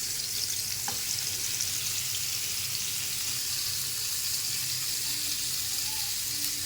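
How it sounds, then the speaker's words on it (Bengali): Aar fish fries briskly in hot oil in a wok, giving a steady, close, unbroken sizzle with a faint clink near the start and no talking. "একটু কড়া করে ভাজতে হবে, না ভাজলে মাছটা হবে না ভাজা।"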